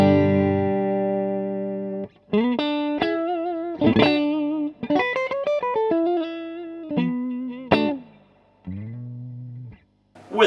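Electric guitar through a Valvette Custom Drive overdrive pedal into a Hughes & Kettner Statesman 1x12 quad EL84 amp, playing sustained distorted notes and choppy chord stabs with short pauses, with a touch of spring reverb.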